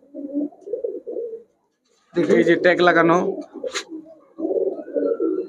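Club pigeons with leg tags coo in low rolling bursts, close by, between stretches of people talking in Bengali at a pigeon market.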